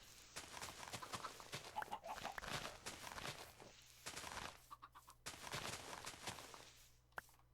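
Minecraft chickens cluck in scattered bursts around a farm, with a soft pop as one lays an egg, mixed with other faint animal noises and occasional clicks at low volume.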